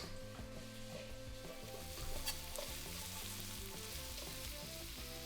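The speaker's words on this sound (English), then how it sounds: "Add a thinly sliced onion and cook for 2 minutes, stirring often until slightly softened." Thinly sliced onion sizzles in sesame oil in a wok for noodles with bean sprouts, a steady close frying hiss with frequent scraping stirs and a brief louder burst near the middle.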